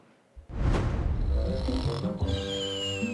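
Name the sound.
Sing and Snore Ernie toy snoring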